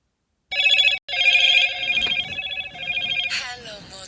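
A phone ringtone sounds loudly and close with a rhythmic, buzzy electronic ring, pausing briefly before continuing and ending in a rising chirp.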